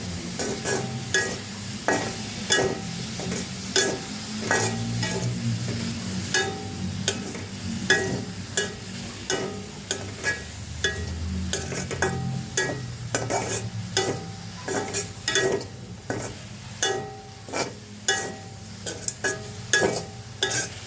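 Culantro leaves fry in a pan with a steady sizzle, broken by repeated sharp scrapes and clinks of a utensil stirring in an irregular rhythm.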